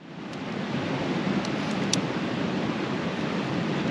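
A mountain stream beside a wild camp in the Cairngorms rushes close by, a steady broadband wash of flowing water that fades in and then holds evenly, with no talk.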